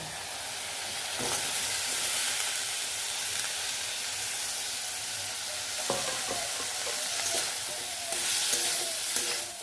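Masala frying and being stirred in a pan for a bitter gourd dish, with a steady sizzling hiss and scraping stir strokes close by, a few sharper clinks near the end; no talking.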